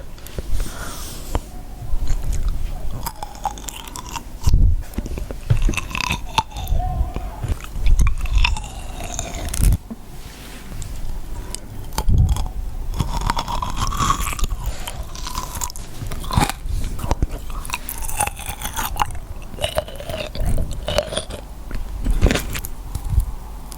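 A large pitless crunchy food bitten and chewed up close, with steady crisp crunches and mouth sounds repeating for a long stretch and no talking.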